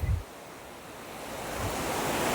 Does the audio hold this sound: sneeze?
no